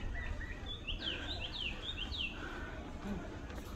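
Several bright bird chirps and tweets in a quick cluster, moderately distant over a steady low outdoor rumble.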